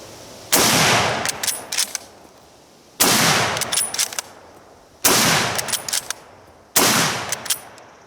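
A 1903 Springfield experimental carbine rifle firing outdoors, four loud sharp shots spaced about two seconds apart, each followed by a rolling echo and faint metallic clinks of the action being worked.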